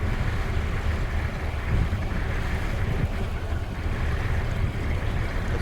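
A large cruise ship at sea sails from Denmark to Norway on the Copenhagen to Oslo route, heard as a steady rumble of wind, water and engine noise, loud and constant with no speech.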